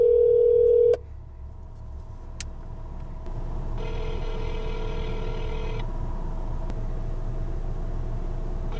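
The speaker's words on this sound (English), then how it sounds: "I'm just gonna give her a call right now on my cell phone" A cell phone call is placed. A steady dial tone cuts off, a brief keypress blip follows, then after a pause a repeating ringback tone plays over a constant hiss of background noise.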